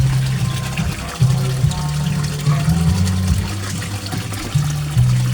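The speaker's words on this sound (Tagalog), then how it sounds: "i-flex ko ang submersible pump ko kasi ang lakas-lakas" A submersible pump keeps water moving in a koi pond, with a low mechanical hum that stops and restarts under continuous splashing and trickling.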